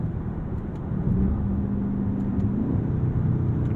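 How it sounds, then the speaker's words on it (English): A Dodge Charger Scat Pack Widebody engine hums as a low, steady rumble from inside the cabin, rising slightly in pitch midway with paddle downshifts, with no voices. "which do prompt quick downshifts. And revel in the soundtrack and velocity."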